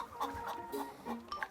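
Hens inside a chicken coop cluck in short, soft repeated bursts, close by and fairly quiet.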